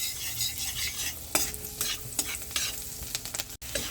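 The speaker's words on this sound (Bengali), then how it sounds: "একটুখানি হালকা করে নাড়াবো।" Chopped garlic sizzles in butter in a pan, with a constant bright frying hiss and repeated quick stirring scrapes close by; no speech.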